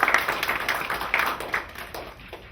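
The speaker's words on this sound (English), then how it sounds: "give yourselves a round of applause for being here" An audience at a family story reading event claps, loud at first and then thinning out and fading over a couple of seconds, with no talking.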